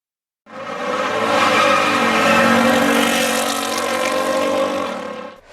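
Engine of a fast 1960s Oldsmobile muscle car, a loud sustained drone with a rich harmonic tone that swells in after half a second and holds steady for about five seconds.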